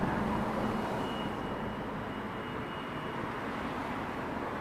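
A CRJ900 regional jet at Toronto Pearson airport makes a distant, steady broadband roar that holds at a low, even level throughout.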